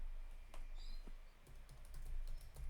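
Computer keys are tapped in quick, light clusters, faint and close, with a low steady hum underneath and no speech.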